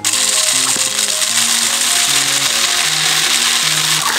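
Uncooked rice poured into a container to make a homemade shaker gives a steady, dense hiss and rattle that lasts throughout, with melodic background music underneath.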